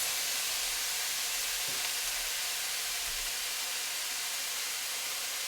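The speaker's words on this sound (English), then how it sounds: "listen for that sizzle" Fried ramen noodles sizzle in a frying pan with soy sauce, a constant close hiss and crackle without pause.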